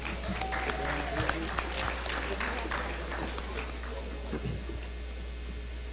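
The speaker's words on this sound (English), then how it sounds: "Please give a round of applause for our award winners." Applause for award winners at a student athlete awards ceremony, a steady crowd clapping across the whole stretch with scattered louder claps and a faint voice now and then beneath it.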